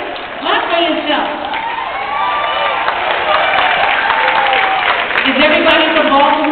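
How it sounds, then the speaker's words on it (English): Audience applause and cheering at a NASA 50-year celebration concert, a sustained dense wash of clapping and crowd noise that swells and holds steady throughout, with a voice calling out over it. "Clap for yourself."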